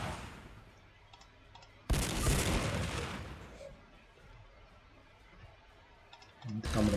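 Gunfire in Warhammer 40,000: Sanctus Reach, with a loud burst of shots that trails off into quieter clicking, then a second burst starting near the end.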